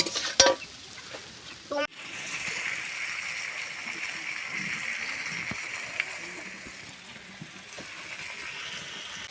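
Oil sizzles steadily in a pan with fish frying, a couple of sharp scraping clinks near the start as it is stirred, continuing as a soft hiss throughout.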